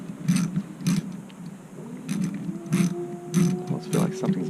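A Phillips driver ratchets a bolt home during a GY6 180cc scooter top-end rebuild, making about six clicking bursts in a steady rhythm while a voice murmurs faintly now and then.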